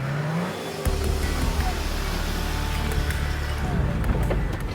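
An off-road vehicle grinds through jungle terrain, its engine kicking in loudly after a brief lull and droning on close by with rising revs and rattles, with voices faintly underneath.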